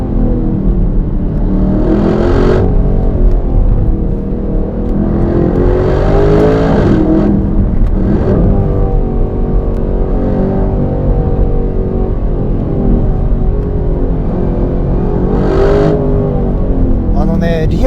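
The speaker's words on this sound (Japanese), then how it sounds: "リアからねデフの音がね聞こえてきますね。" A 2025 Aston Martin Vantage drives a winding road, its rear differential whining over a steady, loud engine and road drone that rises and falls with the throttle.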